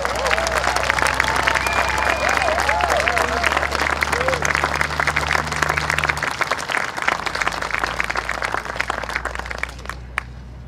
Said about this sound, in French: Je pense qu'elle mérite une très bonne main d'applaudissements.